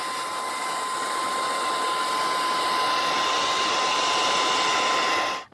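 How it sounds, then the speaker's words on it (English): A hair dryer blows with a constant whooshing roar and a steady whine, drying wet chalk paint on a painting, running for several seconds before cutting off abruptly. "I try to move the water a little with the hairdryer"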